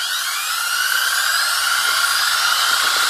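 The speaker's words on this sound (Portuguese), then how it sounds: "vamos rotacionar novamente o eixo da turbina eólica" A small wind turbine's generator shaft is spun by hand, giving a steady, loud, high-pitched whine that holds evenly throughout without pauses or voices.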